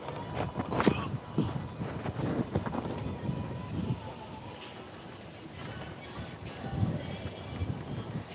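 Wind gusting through coconut palm tops on the beach at Koh Phangan, with blustery rushing and buffeting on the microphone, rising and falling in strong bursts; a voice speaks briefly at times.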